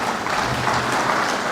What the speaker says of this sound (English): Can we please give Mr. Boss Mustafa another round of applause?